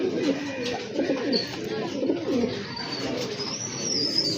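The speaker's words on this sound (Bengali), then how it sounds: "আরেক জোড়া কবুতর এই যে দেখেন, খুবই চমৎকার এক জোড়া রাজগোল্লা কবুতর" A pair of Rajgolla pigeons coo close by in soft repeated throaty bursts, with a faint chirp in the background and no clear speech.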